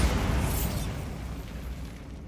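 A Bombarda spell blasting apart a barricaded archway of stacked bones in Hogwarts Legacy, played on PS5. A single loud explosion hits at once, then its rumbling debris and reverberation fade slowly over two seconds.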